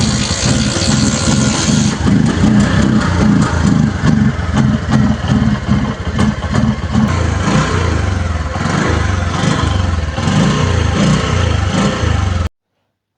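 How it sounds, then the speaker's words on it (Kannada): A motorcycle engine catches and runs, a loud, close, pulsing idle with some revving throughout, then cuts off abruptly near the end. "ಹಾಗೆ ಕೊನೆಯಲ್ಲಿ ನಮ್ಮ ಬೈಕ್ ಸ್ಟಾರ್ಟ್ ಆಯಿತು."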